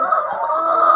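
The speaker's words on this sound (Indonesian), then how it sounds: "Satu kamar kecil ini ada 2 ayam dan memang dia nggak bisa kemana-mana" Laying hens clucking steadily at close range in battery cages, two birds to each small cage at an agro park in Yogyakarta, with a dense overlapping chorus of clucks and no talk.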